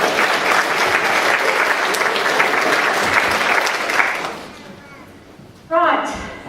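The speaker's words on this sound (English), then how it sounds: "Give yourselves a big round of applause." Audience applause at a family fundraising concert, a dense burst of clapping that fades out after about four seconds, followed by a quiet pause and a short thud.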